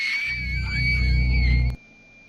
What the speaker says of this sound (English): A scream tears through the silence, loud, raw, and close.